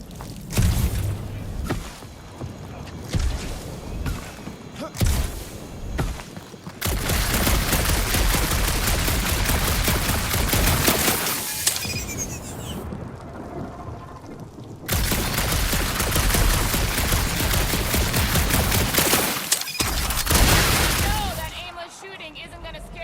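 Gunfire in the video game Guardians of the Galaxy, dense bursts of blaster shots in long rapid volleys with brief pauses between, loud and close, with characters talking over parts of it.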